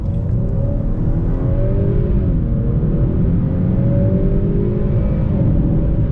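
2022 Honda Accord Sport 2.0T with a 10-speed automatic accelerating at full throttle in sport mode on a cold day, a loud steady engine roar with rising and shifting tones that continues without a break.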